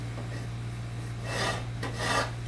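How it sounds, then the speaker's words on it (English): A rasp scrapes out the center of a wooden knife handle in two broad, close strokes over a steady low hum, with no talking. "Then I'll take and rasp all that out the center of that"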